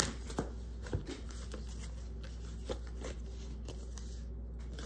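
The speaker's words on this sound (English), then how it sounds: "This came out again and I just shuffled." A deck of playing cards shuffled in a few quick riffling bursts, close and fairly quiet, with soft handling noise between them.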